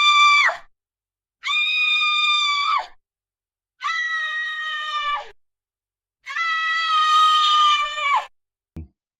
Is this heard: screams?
yes